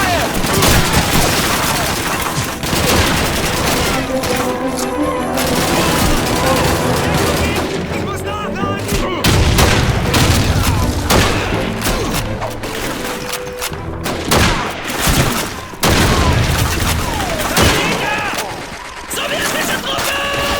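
Heavy gunfire and grenade blasts from a World War II battle in Call of Duty 2, with dense machine-gun bursts and rifle shots rattling almost nonstop for twenty seconds, loud and close, while soldiers shout orders over the din.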